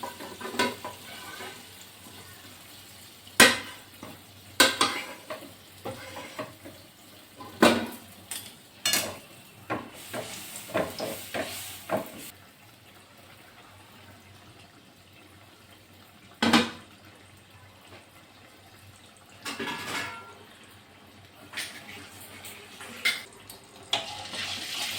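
Palm-fruit malpua batter dropped into hot oil one spoonful at a time, giving separate sizzling bursts over a quiet bubbling background, with no talk.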